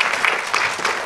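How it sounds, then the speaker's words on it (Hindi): Audience applause for a child performer at a 2017 award show, a steady burst of clapping from a crowd lasting about a second, fairly loud and without speech over it. "जोरदार ताली इस बच्चे के लिए छोटे से"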